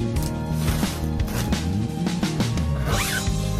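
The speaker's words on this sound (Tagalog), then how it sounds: "May zipper siya." The zipper on a storage bag is pulled open or shut in several quick, close rasping strokes, loud and sustained, with no talk over it.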